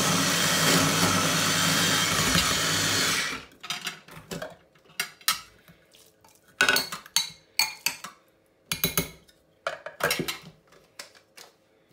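Avocado being coarsely mashed in a bowl for homemade bread, a string of irregular clinking and scraping taps from a utensil against the dish after a steady background hum cuts off.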